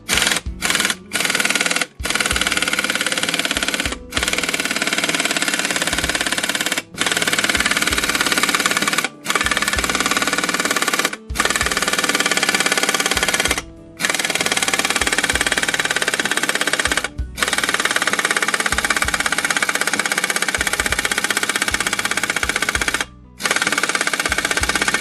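A pneumatic impact wrench hammers on a ball joint of a 1992 Ford F-150 truck in loud, rapid rattling bursts, separated by short pauses, close by and with no talk.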